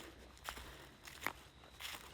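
Crunchy footsteps on dry ground outdoors, where a bear was recently sighted in the area; three soft, crackly crunches land about every three-quarters of a second over a quiet background.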